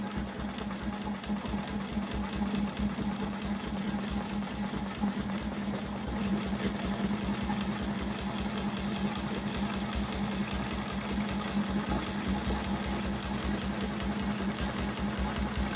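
Sewing machine quilting with a Westalee Spin E Fex ruler, running steadily and fast with a continuous rapid needle rhythm and motor hum throughout, close and alone without talk.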